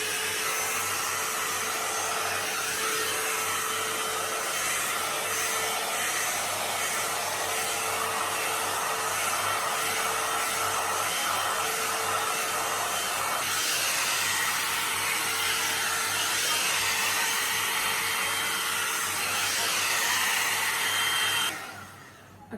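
A hair dryer on its high setting, used for drying and volumizing hair at home, blows a loud, steady roar with a constant whine for about twenty seconds, then cuts off abruptly near the end.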